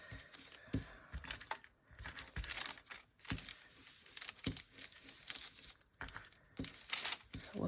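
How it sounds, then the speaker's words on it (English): Paper is torn by hand for junk journal ephemera, giving quiet, close, irregular rips and crinkles in short bursts. "I could rip them a little bit more."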